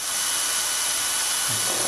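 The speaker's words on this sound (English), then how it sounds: "use a 5 drill bit and drill through that bleed hole into the shaft" Power drill with a 5 drill bit boring through a sleeve's bleed hole into a shaft, a loud continuous high-pitched whine held steady throughout.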